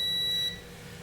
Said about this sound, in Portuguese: Vamos fazer primeiramente um teste de continuidade, utilizando aqui o multímetro.